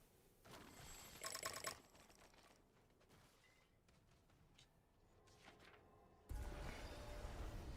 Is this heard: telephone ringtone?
yes